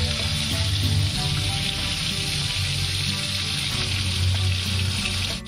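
Pangas fish pieces fry in hot oil in a pan with a loud, continuous sizzle and bubbling that holds steady throughout.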